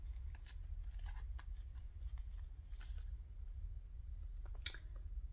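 Scissors snipping glassine paper, a handful of quick, faint crisp cuts spaced irregularly over a low steady room hum.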